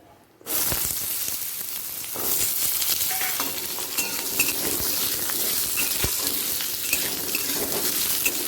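Cut potatoes hit hot oil with a sudden loud sizzle that keeps crackling steadily, with occasional stirring clatter.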